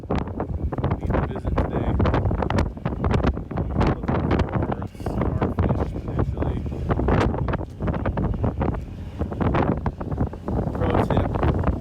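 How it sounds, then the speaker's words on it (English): Strong storm wind buffets the microphone on an Aleutian Islands spit in gusty, uneven bursts, loud and continuous, while a person speaks through the roar. "The storm's starting to pick up a lot. It's getting like real windy."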